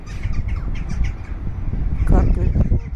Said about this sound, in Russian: А, нет, это наверное, вороны.